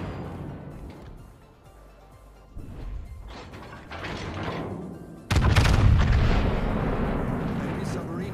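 High-explosive guns fire in the naval video game Conqueror, a series of heavy booms and blasts rising in loudness, with a big explosive crash midway followed by a sustained roar.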